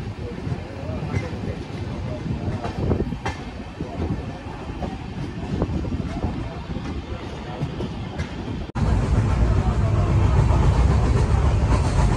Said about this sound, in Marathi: आपली पण ट्रेन निघाली आहे त्याच्यासोबत